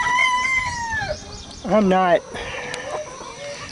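Chickens make drawn-out, wavering calls and a short burst of clucking in a farm coop, close and loud, while a person speaks briefly under the birds.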